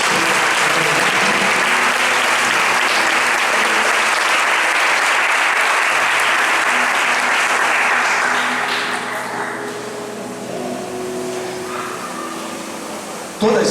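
A church congregation applauds in a loud, dense, sustained wash of clapping that fades to a lower level toward the end.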